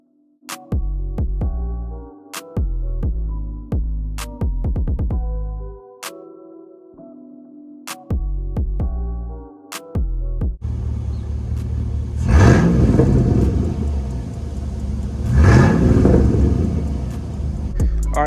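Pickup truck being driven and repositioned on a home driveway, engine starting in short bursts, idling and revving as it maneuvers, then a steady louder rumble with rising acceleration swells, close by.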